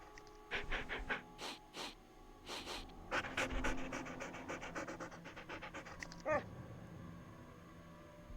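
Ghost dogs pant in the Nancy Drew game Ghost Dogs of Moon Lake, rapid rhythmic breathy bursts close up, repeating in quick runs with a brief whimpering whine near the end.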